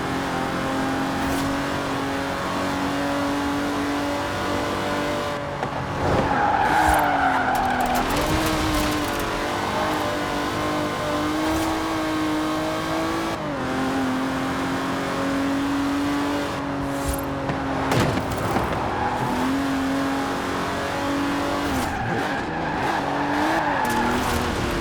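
A 1960s Aston Martin DB5 Vantage with side-draft carburettors racing in Forza Horizon 4, its engine droning steadily through repeated gear changes and revs, with tire squeal in places.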